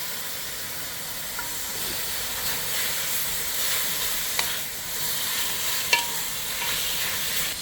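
Marinated meat for a large batch of curry sizzling without cooking oil in a thick pot over a gas flame, a steady close hiss with occasional stirring clicks and no talk.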